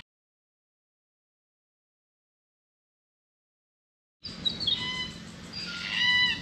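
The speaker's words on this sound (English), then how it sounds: "Oh, cockatoos, I tell you, this is real Australian countryside out here." Cockatoos calling in Western Australian countryside: after silence, a cluster of distant squawks and chirps rises over faint background noise, growing slightly louder toward the end.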